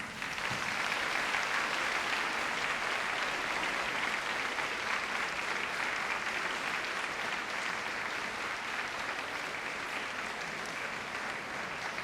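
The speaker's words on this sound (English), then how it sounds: "and give them a round of applause." A large graduation audience in a university hall applauds with steady, sustained clapping that stays dense and even throughout, with no voices over it.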